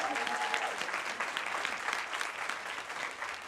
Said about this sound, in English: Can we please have a round of applause?